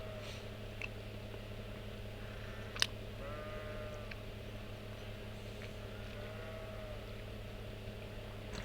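Cows low faintly in the Nord Highlands of the Trails of Cold Steel video game, a few soft calls set far back beneath a steady droning music bed.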